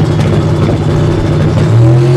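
Drag racing truck launching down an eighth-mile strip during a summer drag event, its engine roaring loud and close as it pulls hard, with the pitch climbing sharply near the end.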